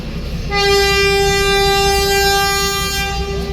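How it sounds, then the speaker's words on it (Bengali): A train horn sounds loud and nearby in one long sustained blast lasting about two and a half seconds, over the low rumble of the passing train. "এটা বললাম ট্রেনের হর্নের আওয়াজ"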